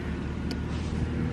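A car drives past close by during a one-mile run, its engine and tyre rumble steady and fairly loud throughout, with a brief high hiss midway.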